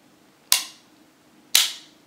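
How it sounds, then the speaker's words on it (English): A CZ 75 pistol's decocker lever being pushed down gives two sharp metallic clicks about a second apart, each close and crisp with a brief ringing decay, with no voice over them. "Here's how the decocker works. It decocks to halfway, so you push it down and it's kind of really heavy to push"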